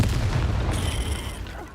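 A Confringo fire spell goes off in Hogwarts Legacy, one short low blast and rumble with a bright crackling burst layered on top, loud and close, fading quickly.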